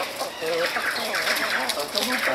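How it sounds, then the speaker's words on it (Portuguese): Large roosters and other chickens cluck and call at a farm in Santa Elvira, Mato Grosso, a busy mix of close, overlapping fowl sounds while someone talks throughout. "Poxa vida, que galo grande esse aqui, ó."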